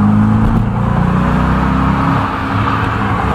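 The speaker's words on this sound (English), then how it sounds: "Tanner just picked his car from the Audi dealership and he cold started it." Audi R8 engine revving on a cold start, a loud, close, sustained low rumble with steady engine tone throughout and no talking.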